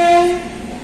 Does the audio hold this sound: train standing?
yes